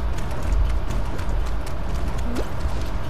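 Steady video game horse hoofbeats clip-clop continuously over a dense background rumble, with no voices.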